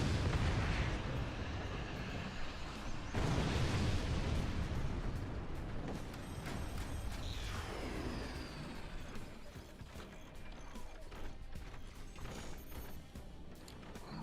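Rockets fire in the artillery strategy game Forts during a competitive league playoff match, with repeated booming launches, rumbling blasts and whooshing sweeps over a busy mechanical clatter, loud and continuous.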